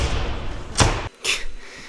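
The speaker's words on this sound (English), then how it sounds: "And they slammed the door in his face." A door slams shut with a sharp, loud thud, then a second bang follows moments later.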